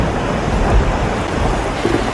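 Heavy rain during a California thunderstorm pours as a loud, dense wash of noise, with low rumbling swells and a brief deeper thud near the middle.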